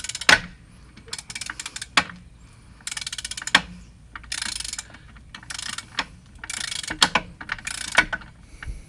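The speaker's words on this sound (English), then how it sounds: "Using 5/8 socket driver and the 5/8 wrench to hold the nut at the bottom, we're going to loosen 4 bolts" A 5/8 socket driver ratchets in repeated short bursts, clicking rapidly while loosening bolts on a Mercruiser Alpha 1 boat lower unit, with sharp knocks between bursts and no talking.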